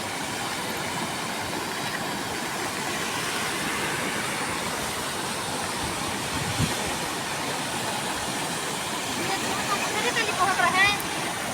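A rain-swollen village river after heavy rain rushes past in a steady, dense roar that fills the whole stretch with little variation, growing slightly rougher near the end.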